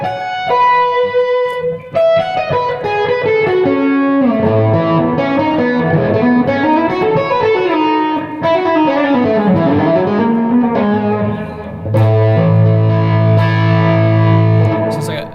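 A loud, close distorted electric guitar plays a lead line of bending, sliding notes, finishing on thick, sustained chords.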